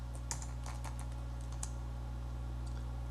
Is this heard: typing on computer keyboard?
yes